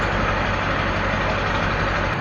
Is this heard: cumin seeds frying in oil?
no